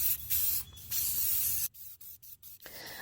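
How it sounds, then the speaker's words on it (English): Black spray paint hisses from a can onto a water tank in several bursts, first longer steady sprays, then a run of short quick pulses, close and clear with no talking. "I'm taking the time to paint this tank black"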